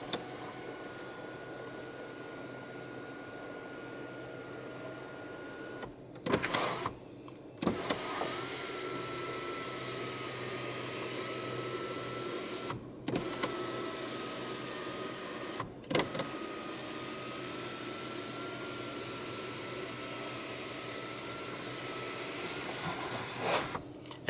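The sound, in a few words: electric sunroof and sunshade opening, 2023 Chery Tiggo 8 Pro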